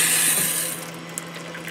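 Hot water gushes from a tap in an RV fitted with a heat exchanger in place of its water heater: a steady hiss that is strongest at first, then eases to a softer flow, with a small click near the end.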